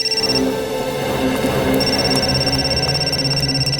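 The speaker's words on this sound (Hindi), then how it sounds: "हाँ निखिल सर, सिद्धार्थ का फोन।" A steady electronic ringing tone repeats in a continuous pattern, loud and close, with no voices.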